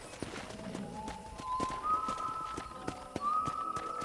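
Horse hooves clip-clop in Red Dead Redemption on a ranch, a steady trotting rhythm of light hoofbeats under a faint whistling tone.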